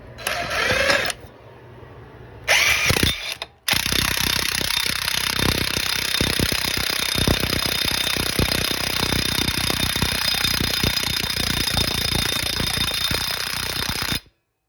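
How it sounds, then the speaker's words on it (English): Impact wrench drawing a wheel stud into the hub of a 1960 Chevrolet Impala: two short bursts, then a long, loud, steady hammering rattle that runs about ten seconds before stopping abruptly. "I'm going to put my impact on there"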